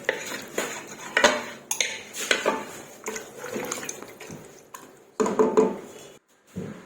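A metal spoon scrapes and clanks against a pressure cooker in irregular strokes as spiced beef boti is stirred, close and fairly loud, with no talking.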